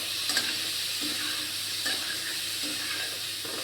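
Ground spice paste frying in a pan, with a steady close hiss and sizzle throughout and a few soft scrapes of stirring.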